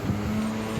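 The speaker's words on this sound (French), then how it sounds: "il y a un scooter qui est passé" A scooter passing by outdoors, a steady engine hum with a low tonal drone throughout, fairly close and continuous for the whole short moment, with no talking.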